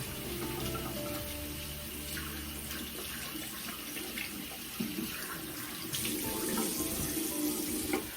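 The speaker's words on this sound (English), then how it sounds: "I use lukewarm water to remove my makeup or to remove the cleanse off my face." Lukewarm tap water runs steadily from a faucet into a sink during face rinsing, a continuous close splashing rush that shifts in tone as hands move through the stream.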